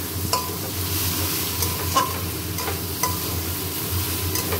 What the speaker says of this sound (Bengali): লইটে শুটকি আলু দিয়ে ভুনা